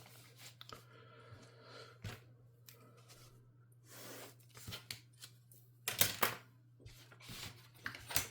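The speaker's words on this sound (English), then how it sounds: "Cut this out now." Scissors snip through paper while a craft album is being made, giving a few scattered cuts and rustles at close range over a steady low hum, with brief louder bursts of paper handling near the end.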